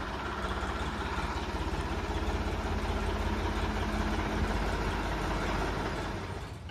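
A Ford 3600 tractor's diesel engine runs steadily at idle after sitting unused for many days, a continuous, loud, even rumble with a low throbbing pulse that holds unchanged throughout, with no voices over it.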